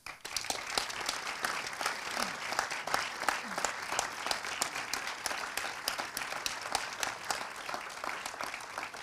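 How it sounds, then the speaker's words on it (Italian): Applause rises from the audience at the Pordenone Docs Fest award ceremony as documentary filmmaker Roberto Minervini is welcomed, many sharp individual claps crackling steadily throughout, moderately loud from a room-sized crowd. "vi prego di accogliere con grande applauso, Roberto Minervini"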